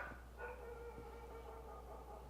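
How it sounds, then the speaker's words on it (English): A dog barks once, faint and distant, in a Vikings TV episode, with a drawn-out whimpering whine and low background score. "That dog is pissing me off."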